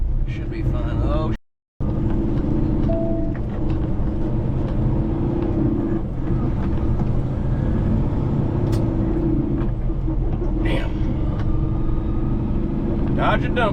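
Heavy dump trucks rumble past on a country road among orange groves, a steady loud engine drone with brief air-brake hisses, while a voice speaks over the noise.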